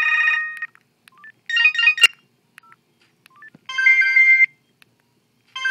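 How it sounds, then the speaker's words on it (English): Electronic ringtone tones play from a Motorola VE440 Metro PCS phone: short bursts of bright beeping melody separated by near silence, close and clear, with no voices. "it seems to be like all the original ringtones that come with all the other Metro phones."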